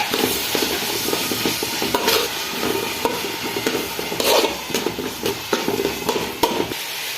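Onions sauté with salt in a pan for tomato rice, a continuous sizzle under repeated scraping and stirring strokes of a spoon against the pan, close and fairly loud, with no speech.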